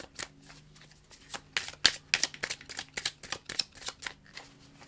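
Tarot cards being shuffled for a card reading, a quick run of crisp riffling flutters and soft slaps close up, rising and falling in uneven bursts with no talking.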